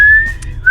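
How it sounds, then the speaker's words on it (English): A person whistles close and loud, a sustained steady tone that bends slightly and ends on a rising note, with brief breathy sounds between. "I'm just going to whistle"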